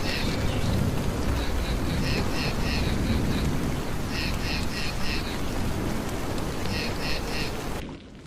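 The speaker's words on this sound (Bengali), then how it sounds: "বাইরে প্রবল ঝড় বৃষ্টি শুরু হয়েছে, জোরে জোরে মেঘ ডাকছে" Heavy storm in a cartoon, with dense rain pouring steadily and loud and close throughout, along with repeated short high rhythmic calls in bursts, and a low rumble beneath before it cuts off near the end.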